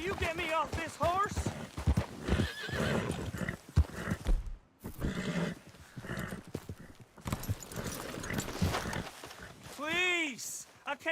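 Rhythmic clip-clop of horse hooves with several whinnies, including a loud neigh near the end, mixed with game-like effects and voices.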